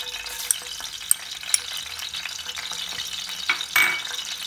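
Garlic paste sautéing in hot oil for puri-style cholay, a light crackling fry with a few sharp clinks of a spoon against the pan and brief sputtering bursts near the end, with no talking.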